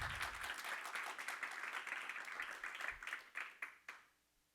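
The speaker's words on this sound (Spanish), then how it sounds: "Si le vas a dar palmas, dale con ganas." A church congregation claps together in a dense burst of applause that thins into a few scattered claps and fades out, moderately distant in a reverberant room.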